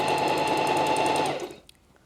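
Home sewing machine stitching in a fast, even rapid-fire rhythm close by, running steadily for about a second and a half before stopping abruptly.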